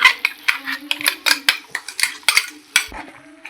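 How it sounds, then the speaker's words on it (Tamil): Ground masala being stirred into mashed eggplant for vangibath, a utensil scraping and clinking against the pot in quick repeated strokes, close and fairly loud with short pauses between. "நல்லா மிக்ஸ் பண்ணி விட்டுக்கலாம்"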